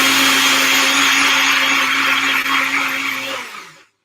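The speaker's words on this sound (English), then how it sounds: "I'm just going to blend it so you can see what it looks like right from there" A NutriBullet blender whirs steadily while blending juice in a kitchen, a loud continuous motor drone that runs for several seconds and then winds down and stops abruptly.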